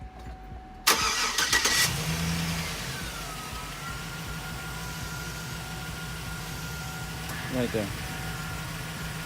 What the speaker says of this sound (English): Now we're going to turn on the truck and move this back to where it was.